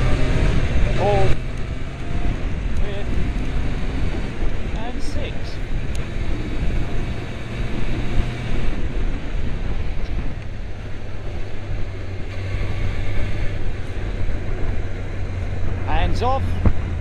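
A 2002 red Kawasaki ZX636 motorcycle engine runs and pulls up through the gears, with a steady loud drone, wind noise buffeting the microphone and a few pitch shifts between gears.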